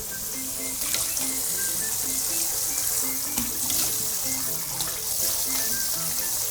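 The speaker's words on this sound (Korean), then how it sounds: "이렇게 면이 굵은 거를 찬물에 헹구면 쫄깃쫄깃해지는 대신에 단점이 뭐냐면 너무 차갑잖아요." Tap water runs steadily over thick fresh kalguksu noodles rinsed in cold water at a sink, a constant close splashing hiss with faint clinks and shifting trickles throughout.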